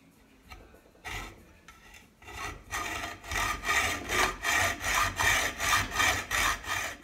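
Cutting off part of an aluminum 4G63 throttle body elbow: hand sawing starts hesitantly, then settles into rhythmic back-and-forth rasping strokes, close and growing louder.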